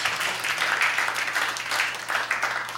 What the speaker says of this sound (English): Big round of applause for everyone here.